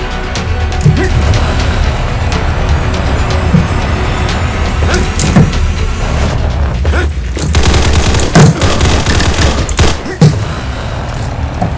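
Gunfire from a standard gun in the shooter game Combat Masters, with repeated sharp shots and short bursts scattered over a constant rumbling game backdrop. The shots are loud and close, with brief pauses between volleys.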